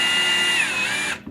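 A power drill bores a pilot hole into wood close to the edge, giving a steady, loud, high-pitched whine for about a second before stopping abruptly.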